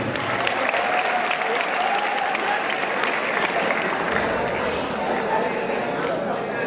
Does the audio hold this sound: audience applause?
yes